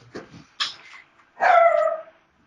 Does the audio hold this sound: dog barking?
yes